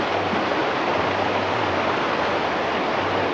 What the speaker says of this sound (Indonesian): sungai ini, atau kalau bahasa Sundanya ini Cikaengan atau Wahangan atau juga yang Walungan, ini mengalir langsung ke laut